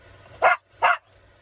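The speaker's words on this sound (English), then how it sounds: "and that's Peanut barking in the back." Two sharp dog barks, about half a second apart, over a quiet background, followed by a faint short yip.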